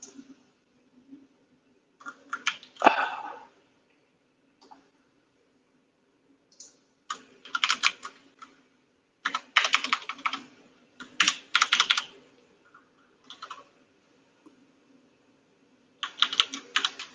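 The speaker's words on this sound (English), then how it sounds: "The sound of your mechanical keyboard" Typing on a mechanical computer keyboard comes in close, crisp bursts of rapid clicky keystrokes separated by silent pauses, with no voice over it.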